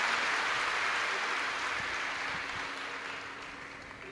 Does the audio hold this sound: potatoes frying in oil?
no